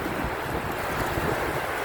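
Wind and surging ocean waves at sea, a steady broadband rush with rumbling swell underneath, continuous and fairly loud throughout with no voices.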